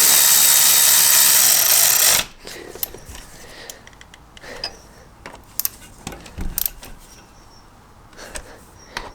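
A power tool tightens fuel filter bolts on a Peugeot van, a loud, close steady whir for about two seconds, followed by quieter scattered clicks and knocks of handling.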